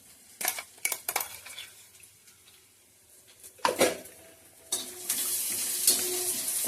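Grated coconut is roasted in a pan for sambar in a Konkan kitchen, with scattered scraping and stirring clatters of a utensil against the pan, then a steadier, louder roasting sizzle near the end.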